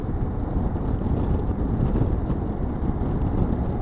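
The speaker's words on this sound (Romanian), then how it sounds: "Hai, da, ce bate vântul." Strong wind gusts buffet the microphone in a steady, loud roar on the Atlantic Road in Norway, a dense broadband rush with no clear breaks.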